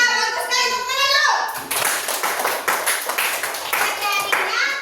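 Young pupils in a classroom clap together for a few seconds after a teacher's prompt, a dense burst of small hands under children's voices and chatter.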